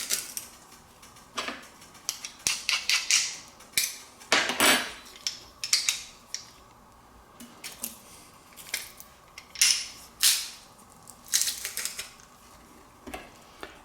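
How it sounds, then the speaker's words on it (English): Garlic crushed for a steak spice rub, a run of sharp clicking and crunching presses in quick irregular bursts, close and fairly quiet, with no voices. "And here's our crushed garlic."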